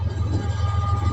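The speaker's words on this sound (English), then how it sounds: "my voice generating has been delayed again by another freight train that I gotta catch" A CSX freight train rolls past close by, a steady low rumble with a faint high tonal whine above it, continuous and loud for the whole moment.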